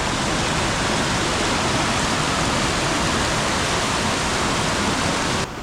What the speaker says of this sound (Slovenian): Kaj pa teče reka Vorotan.